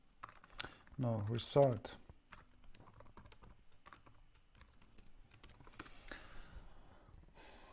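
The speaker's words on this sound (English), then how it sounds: "I think I'm getting a bit tired because I'm typing so badly." Typing on a computer keyboard during C++ programming work, with quiet, irregular key clicks throughout and someone briefly speaking near the start.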